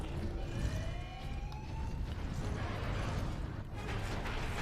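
Warhammer 40k Space Marine game alarm siren wailing in rising and falling sweeps, partly buried under a steady roar of rumbling in-game noise throughout.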